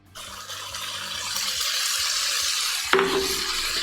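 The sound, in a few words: crushed tomatoes added to browned mixture in pan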